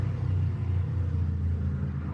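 A heavy truck fitted with plates underneath rumbles steadily at close range, a deep continuous engine drone with no voices over it.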